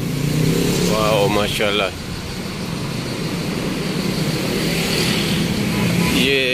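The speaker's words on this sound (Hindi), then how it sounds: "ये छुट्टी का टाइम हुआ है ना, देखे कितनी ट्रैफिक जाम हो गई है।" Evening rush-hour traffic jam on a Bangkok street near a wholesale market, a steady roar of idling and creeping cars and motorbikes with engine drone, someone talking briefly over it at the start.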